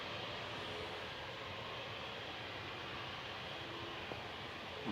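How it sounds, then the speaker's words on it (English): Steady, loud propeller aircraft engine drone at Manchester Airport, a continuous broadband roar holding level throughout with no talk over it. "And a noisy prop, as you can see and hear."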